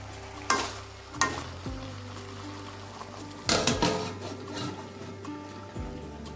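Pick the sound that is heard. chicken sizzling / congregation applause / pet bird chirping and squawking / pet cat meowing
chicken sizzling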